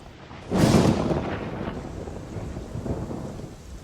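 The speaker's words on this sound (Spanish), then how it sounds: "un trueno hizo retumbar el valle entre montañas en el que ahora nos encontrábamos, y segundos después una tupida lluvia descargó sobre nosotros" Thunder rumbles through a mountain valley, a sudden loud crack that rolls and fades into a steady hiss of heavy rain.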